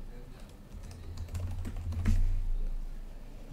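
Code typed on a computer keyboard, a quick run of close, clicking keystrokes that bunch up near the middle, with a low background hum and no talking.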